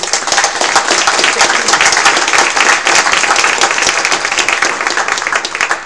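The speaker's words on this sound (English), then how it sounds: "Can we have a round of applause also in recognition?" An audience applauds a panel of experts at a forum, dense steady clapping that fills the whole stretch at an even, loud level.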